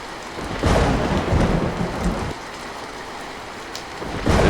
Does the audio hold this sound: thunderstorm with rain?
yes